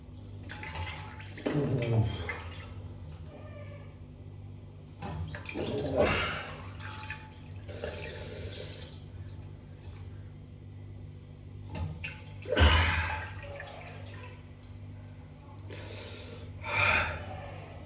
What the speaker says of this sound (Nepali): बरफवाला पानीमा मुख चोपेर राख्ने